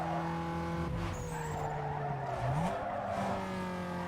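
A car races in Need for Speed Underground 2 with a nitrous boost: a steady engine drone with shifting pitch, tires squealing and skidding in the middle, and the engine climbing again as it accelerates, with no speech.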